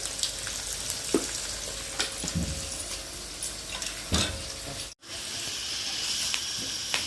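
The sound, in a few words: onions frying in oil with tamarind rice seasoning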